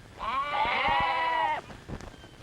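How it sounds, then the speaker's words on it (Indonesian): A goat gives one long, loud, wavering bleat lasting over a second, followed by faint knocks and rustling. "Kalau kambing mengembe, tandanya dia setuju."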